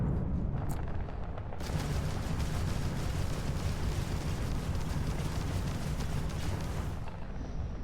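Rapid ship's weapon volley in Starfield, a rumbling barrage of fast repeated blasts that starts after a short lull and holds loud and dense for several seconds before cutting off.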